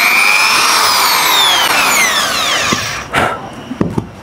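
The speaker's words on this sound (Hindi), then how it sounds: "अब हम इसको रिवर्स करते हैं यहाँ से" An iBell TD13-100 power drill reverses its bit out of a brick, a loud whining motor tone that sweeps and falls, then stops with a few short knocks and scrapes.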